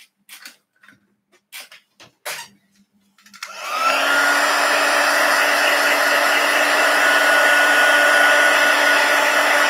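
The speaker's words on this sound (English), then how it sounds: "I am just going to blast this with the heat tool as well." Heat tool blowing steadily to dry watercolour paint, a loud, continuous close whoosh with a high whine that starts after a few soft taps and then runs without a break.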